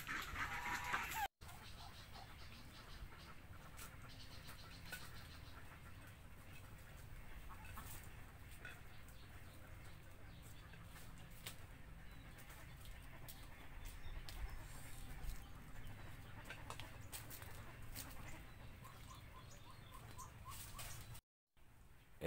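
Chickens cluck softly around a spot where eggs lie scattered, faint and distant under a steady outdoor background, with scattered clicks and rustling throughout.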